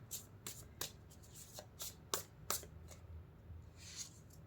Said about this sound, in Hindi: एक और कार्ड इस डेक से निकालती हूँ।